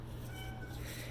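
A pet cat meows loudly indoors, one drawn-out, wavering cry lasting about a second over a low background hum.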